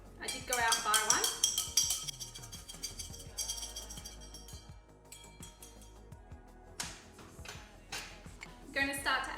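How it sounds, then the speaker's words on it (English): A metal bar spoon stirs a cocktail mixed with pineapple juice in a glass, making bright, close clinks and ringing scrapes against the glass, loudest at the start and again at the end. "I'm going to give this a stir with my fancy spoon."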